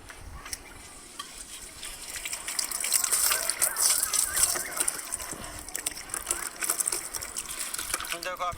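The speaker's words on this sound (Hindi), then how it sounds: "अब पानी मारते हैं एक बार इस मशीन पे हम।" Water sprayed onto a washing machine during a home cleaning service, a steady gushing and splashing stream that swells in the middle and continues close by without a break.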